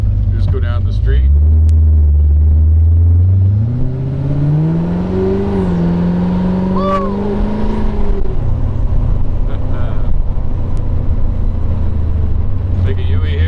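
A 1928 Ford Model A roadster street rod pulling away down a street, its engine revving up through a rising whine then settling into a steady loud drone, with someone talking briefly near the end.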